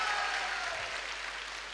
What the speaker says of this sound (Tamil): ஒரு பெரிய கைத்தட்டல் வந்து சௌமியாக்காக நம்ம கொடுக்கணும்